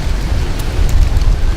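Steady rain begins outdoors as a storm rolls in, a dense close hiss of falling drops with low wind rumble, continuous and fairly loud with no voices.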